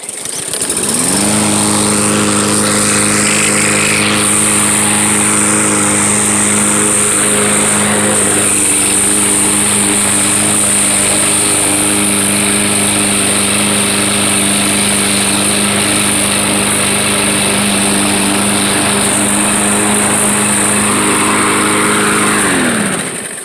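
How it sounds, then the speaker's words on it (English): A Craftsman M110 push lawn mower drones loudly and steadily while cutting grass, its engine holding an even, close-up hum for the whole stretch with no talking. "I'll try and give you some shots of me mowing the grass"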